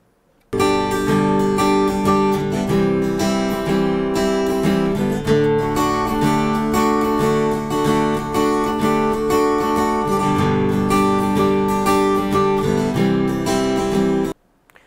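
Acoustic guitar picked up by an instrument microphone placed at the bridge with a compressor on, strummed chords ringing full and close for about fourteen seconds, dense and bright, with no talking over it.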